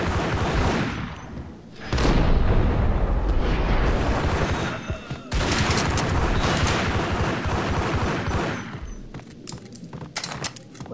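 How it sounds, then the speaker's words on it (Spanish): Heavy, continuous rumbling blasts and booming bursts of gunfire-like explosions in the game Max Payne, loud and dense, with brief lulls between long roaring stretches. "Me asustan las explosiones."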